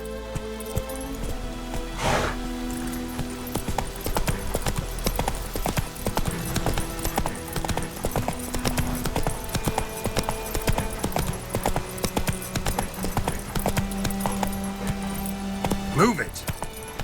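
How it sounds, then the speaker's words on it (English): Horse hooves clip-clopping steadily in The Witcher 3 as the horse trots along, close and rhythmic, with a brief whinny-like burst and a character's voice speaking over the gait. "Whoa there, Roach"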